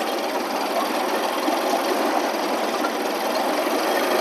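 An old Bobcat skid steer engine runs steadily at higher throttle, a dense, even roar that holds without letup from start to finish.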